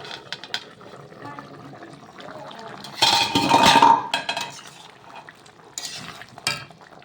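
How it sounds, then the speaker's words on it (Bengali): A lid is lifted off a pot of simmering beef curry with potatoes and the meat is stirred, giving a burst of metallic clatter and scraping in the middle, with softer stirring and clinks before and after. "ঢাকা দিয়ে দশ থেকে পনেরো মিনিট সেদ্ধ করে নেব উঠিয়ে একবার মাংসটা নেড়ে দেবো"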